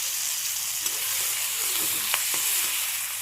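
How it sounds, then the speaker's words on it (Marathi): Tomatoes, curry leaves and coriander fry in a pan with a steady, close hiss, broken by a few faint stirring scrapes. "कढीपत्ता आणि कोथिंबीर आणि टॅमॅटो टॅमॅटो चांगलं भाजून घेते मी आता"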